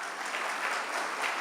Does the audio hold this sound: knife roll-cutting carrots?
no